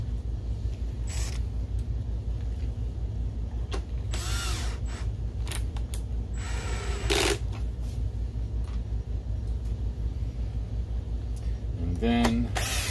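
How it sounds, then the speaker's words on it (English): Screws being driven back into the case of an Optoma HD27 DLP projector under repair: scattered close ratcheting clicks, taps and light mechanical rattles, with brief bits of voice between them. "Put our screws back in."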